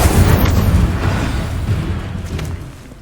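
A fiery blast from the Incendio spell in Hogwarts Legacy roars up loud and close, a dense burning rumble that slowly fades across the clip.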